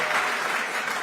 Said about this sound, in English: This applause doesn't come off my time